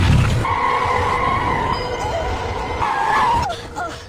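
A car skids to a stop in a Korean action film, a long, loud tire squeal that fades out at the end over a rumble of engine and road noise.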